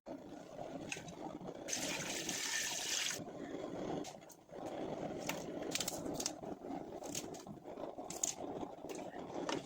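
Water pours from a glass into a pressure cooker holding meat for a mutton soup, a steady splashing stream that runs for several seconds, pauses briefly, then continues, fairly close with no talk over it.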